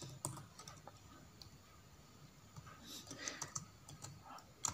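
A prompt is typed on a computer keyboard into ChatGPT as a steady run of light, quick key taps, close and fairly quiet against faint room noise, with a few louder clicks near the end and no speech.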